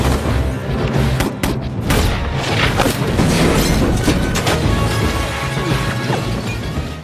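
A dense, loud barrage of gunfire with crashing impacts from the police shootout with robbers in the 2008 film Hancock, continuous and chaotic throughout.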